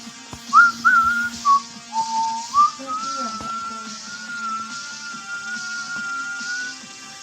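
Someone whistles at Pikachu in a video game: a few quick, bright chirping notes, then a long, steady held tone. The whistling is loud and close, with no talking over it.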